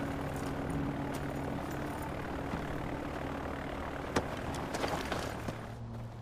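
A plane taking off in the video game Far Cry 4 gives a steady droning aircraft engine and propeller rumble at moderate distance, with a few faint clicks and knocks near the end and no speech.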